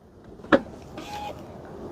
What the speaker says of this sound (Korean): 트렁크 한번 열어보겠습니다.